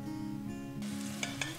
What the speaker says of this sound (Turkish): Orta boy bir tencerede yemeklik soğanı zeytinyağında kavurdum.